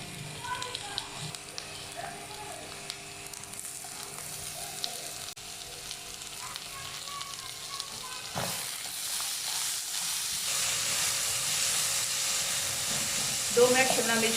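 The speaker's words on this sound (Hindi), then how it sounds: "एक मिनट मैंने इसे तकरीबन फ्राई किया है, मिर्चें और अरवी को" Chilies and taro (arvi) fry in a pan with a low, continuous sizzle and hiss, quiet at first, then growing brighter and steamier in the second half, with faint stirring knocks.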